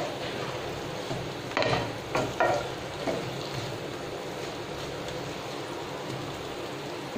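Potato curry with yogurt and gram flour sautéing in a pan over a medium gas flame, a steady soft sizzle with a few louder scraping stirs near the start.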